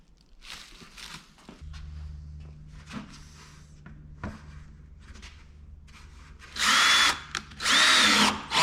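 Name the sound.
drill boring holes in a plastic bucket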